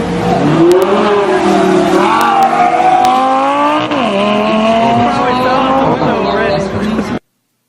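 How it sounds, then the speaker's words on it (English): Lamborghini Gallardo supercar at speed, its engine loud and close with rising and falling revs and gear shifts, heard from inside the car while people talk over it. "Take a look at the first few seconds of our rides that we got that day in the Lamborghini Gallardo."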